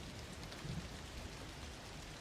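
Steady rain falling on windows, a dense even hiss of drops that stays constant and close throughout with no pauses or other sounds.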